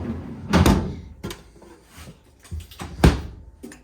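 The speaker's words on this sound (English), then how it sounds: "2 pull-out drawers here for the freezer portion." Freezer pull-out drawers on rollers in a 2022 Sabre 37FLH fifth-wheel RV refrigerator, sliding and thumping shut in several close knocks and rolls, with two louder bumps among softer clunks.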